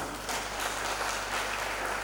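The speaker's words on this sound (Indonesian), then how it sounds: "Kita beri tepuk tangan buat Tuhan kita." A church congregation claps together in a continuous, moderately quiet wash of applause, with a low steady hum beneath it.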